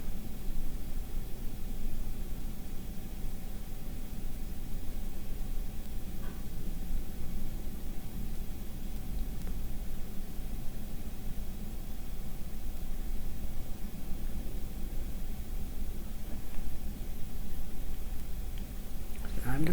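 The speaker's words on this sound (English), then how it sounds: "any background noise you hear at this point is the blowing snow" Blowing snow makes a steady, broadband whooshing hiss with a low rumble, continuous and even throughout with no distinct events.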